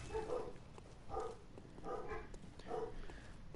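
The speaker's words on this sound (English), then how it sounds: "My dogs are barking again." Several household dogs barking somewhere in the house, faint and distant, in four separate short bursts of barks spaced about a second apart.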